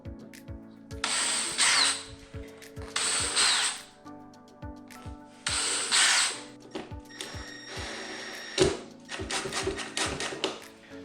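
A power drill pre-drilling hinge holes in a cabinet door whirs in three short, loud bursts with pauses between, followed by a rougher, scratchier stretch of drilling and clicking.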